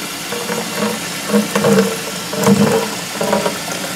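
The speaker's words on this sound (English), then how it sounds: "here comes our overflow water." Overflow water from a washing machine runs through a PW6XXX air gap device, a steady rushing trickle with irregular gurgling surges, moderately close and alone.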